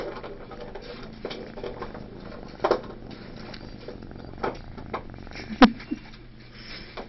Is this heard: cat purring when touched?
yes